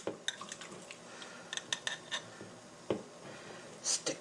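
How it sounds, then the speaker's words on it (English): A spoon scooping taco filling mix from a dish, a handful of sharp clinks and scrapes at irregular intervals, close by with quiet gaps between. "Got a spoon. I'm going to take a little bit of the mix and stick it in the taco."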